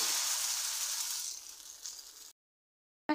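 A flipped pitha cake fries in a pan with a soft, even sizzle for a little over two seconds. It cuts to silence, and a brief burst of noise follows at the end.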